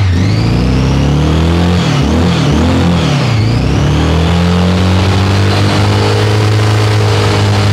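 Engine of a vintage Honda Goldwing barn-find motorcycle being revved up, a loud close rumble that rises and falls in a couple of throttle blips before settling into a steady idle.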